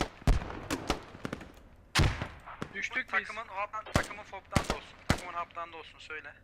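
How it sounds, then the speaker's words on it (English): Bursts of gunfire in a battle royale match, a string of sharp, loud shots at irregular intervals, with commentary talking over and between them. "So you can hear those bullets."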